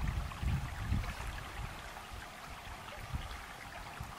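Water poured into a primitive cooking pot made of deer skin outdoors, a soft, steady trickling and splashing that runs continuously at low volume.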